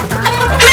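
Hens clucking inside a newly set-up backyard coop, a short close burst of several overlapping clucks and squawks, loud and busy, with no talking.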